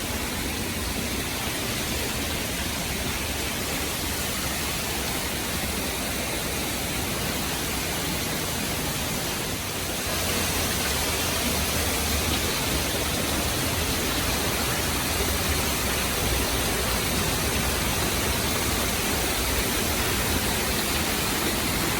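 Steady rushing water from a fountain on the Las Vegas Strip pours as a continuous, dense broadband roar, loud and close, swelling slightly louder midway with no pauses.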